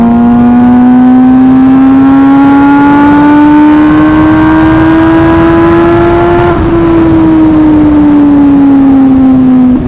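A loud, close MV Agusta motorcycle engine with an aftermarket exhaust drones steadily on a night ride, its pitch rising slowly then easing off, a continuous throaty exhaust note with no voices.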